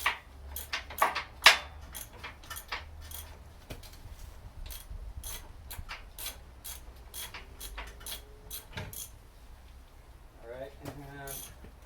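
A socket ratchet turns bolts on a car subframe, a rapid run of close clicks followed by quieter mechanical clatter and a short ratcheting burst near the end.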